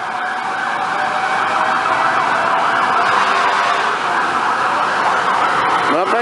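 A loud, steady fire truck siren wails continuously close by at a fire, with a rising sweep near the end over road noise.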